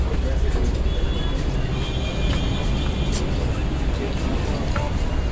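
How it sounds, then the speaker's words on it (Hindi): Steady rumble and rolling noise inside a moving Delhi metro train carriage, continuous and fairly loud throughout, with passengers talking over it. "अभी हम हैं मेट्रो में"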